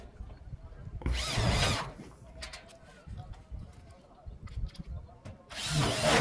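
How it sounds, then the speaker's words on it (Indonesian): Two loud bursts of a power drill grinding into a light steel roof frame, separated by quieter clattering and handling noise, close to the microphone. "Kita bor semua ini untuk bagian sudut-sudut ini."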